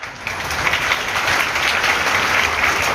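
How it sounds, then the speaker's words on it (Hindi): An audience at a religious discourse in a temple courtyard applauds, a dense, steady burst of clapping that holds throughout at close range with no talk. "जितनों की तालियां बज रही हैं"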